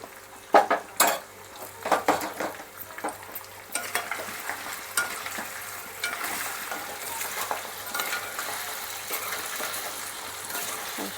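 Mutton pieces frying in oil, Andhra style, stirred in a pan, with steady sizzling and repeated scraping clinks of a utensil against the pot, close and fairly loud throughout.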